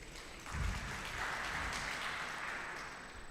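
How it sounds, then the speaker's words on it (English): Faint, distant applause from colleagues in a hall at a book launch, a soft wash of clapping that swells slightly after a low thump, quiet throughout. "Colleagues, can you clap for yourselves?"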